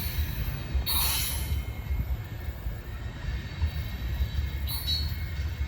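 A heavy coal train rumbles low and steady along the rails, with occasional high metallic squeals from the wheels cutting through.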